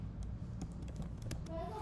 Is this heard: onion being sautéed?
no